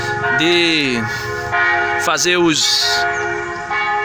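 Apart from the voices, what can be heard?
parish church bell ringing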